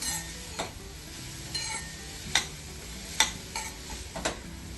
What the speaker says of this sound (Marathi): मंद आचेवर छान कांदा आलं लसूण पेस्ट किंवा आलं लसूण किसलेलं आणि टोमॅटो बारीक चिरलेला आपण हा छान परतवून घ्यायचा आहे